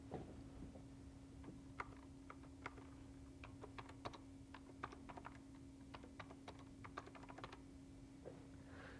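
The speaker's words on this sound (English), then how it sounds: "Now I'm ready to type the title" Computer keyboard keys tapped to enter a title in music notation software, a quiet, irregular run of light clicks over a steady low hum, with no voices.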